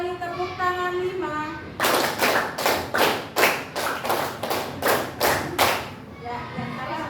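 Children clap hands in a steady run of about a dozen sharp, loud claps, following an adult's counting sing-song voice in a classroom lesson.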